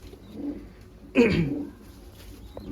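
A pigeon gives a single short, soft coo up close in a loft, standing out briefly against quiet background sound.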